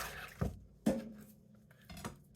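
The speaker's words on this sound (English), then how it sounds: "first up is chopping up my onions" A knife chops medium-large sweet onions on a cutting board, giving three separate, crisp knocks spaced unevenly and heard close and clear, with no talking.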